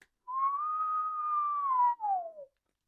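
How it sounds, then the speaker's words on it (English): A single clear, sustained human whistle holds a steady pitch for over a second, then slides downward in a short falling tail, close and alone in a quiet room, demonstrating the mouth shape for harmonica note bending. "what you want to do is to whistle in"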